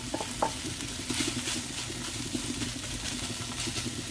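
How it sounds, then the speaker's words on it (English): Corned beef hits a hot, dry pan and fries straight away, giving a steady close crackling sizzle with light scraping and stirring throughout. "because the pan's already heated up, it starts to fry straight away"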